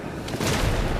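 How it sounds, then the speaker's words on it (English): A rocket launcher fires in the video game Black Desert, a loud booming blast that swells after a brief lead-in and sustains a heavy rumbling roar through to the end. "Rocket launcher."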